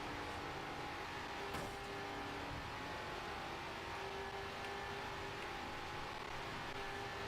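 A racing car engine in the video game Grid drones steadily throughout, a continuous, noisy roar at fairly even loudness with no talk over it.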